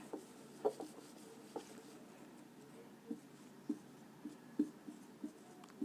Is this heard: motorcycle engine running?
no